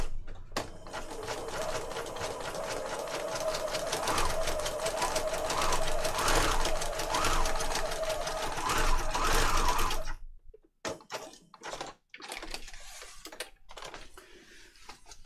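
A sewing machine threaded with black thread runs a zigzag stitch along the edge of a doily, a fast steady mechanical whir and clatter for about ten seconds, then stops and gives way to a few handling noises and brief quiet.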